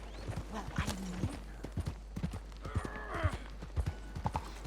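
Horse hooves clip-clop at a steady trot while riding in Red Dead Redemption 2, close and fairly loud, with occasional soft snorts over a low game hum.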